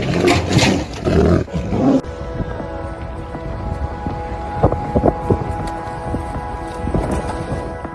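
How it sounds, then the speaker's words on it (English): A rare Amur tiger, newly freed into protected wilderness, gives loud, deep roars in the first two seconds, followed by quieter rustling and scattered knocks and thuds as the surroundings settle. "This rare Amur tiger was relocated after preying on village dogs."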